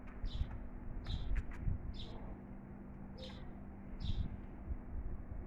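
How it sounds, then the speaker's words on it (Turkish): Small birds sing in a garden, their thin, high chirps recurring about once a second, faint and somewhat distant over a low, steady background hum. "Kuşlar çok güzel ötüyor."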